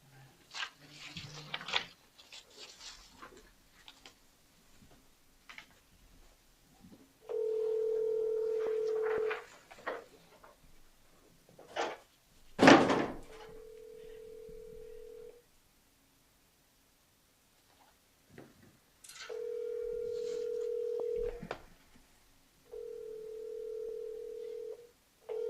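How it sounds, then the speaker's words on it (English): A phone is dialed at a city council meeting to call someone: brief clicks and rustles, then several steady ringing-tone bursts separated by pauses, with faint room noise between them. "I'm gonna call Buffy and get her on."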